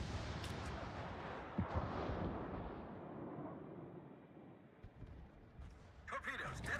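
Naval artillery in World of Warships opens with a deep boom that rolls into a long, fading rumble, with faint voices and some scattered game noise underneath.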